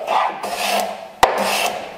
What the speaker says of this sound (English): I'm actually chamfering the end so it doesn't blow out